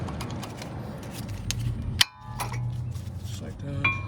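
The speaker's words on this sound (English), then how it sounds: "Now we can remove the brake pads" Metal brake pads clink and scrape as they come out of the caliper on a 2025 Kia Seltos front brake, giving a few sharp close knocks and rattles over a low workshop hum.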